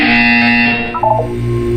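A synthetic electronic buzzer tone from a Portal 2 test chamber, steady and loud with stacked harmonics, shifting pitch briefly near the end before holding on.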